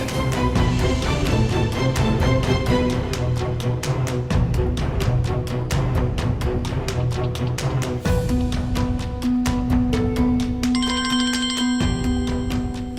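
A mobile phone ringtone announces an incoming call, playing a loud, steady melodic tune of rapid repeating tones that shifts to sustained chiming notes near the end, with no voices over it.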